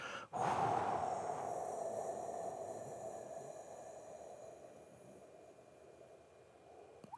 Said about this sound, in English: Breathe out slowly, not fast, not a gush, just like you're breathing through your teeth.